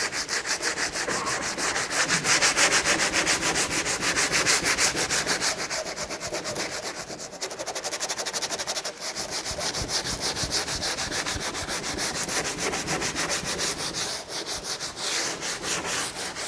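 Wood on a window sash is hand sanded with sandpaper folded in thirds and then in half, a continuous rapid back-and-forth rasping scrub, loud and close, with no talking.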